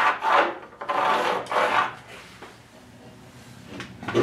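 Wood being sanded by hand while building a chicken tractor, three or four close rasping back-and-forth strokes followed by quieter scraping and handling noises, with no clear talk.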